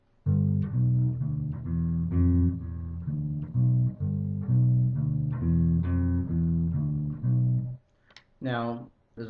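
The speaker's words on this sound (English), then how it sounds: "That is a little boogie woogie shuffle." A guitar plays a bouncy boogie-woogie shuffle bass line in G, steady repeating notes walking up and down, close and clear, ending with a brief spoken exclamation.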